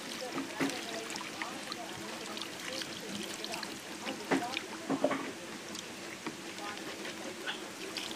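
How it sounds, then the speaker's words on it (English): Water poured from a jug into a mix of binder for screen printing ink, a steady splashing pour with brief louder surges, under faint background voices. "Right now, what he has putting from this jug is only water."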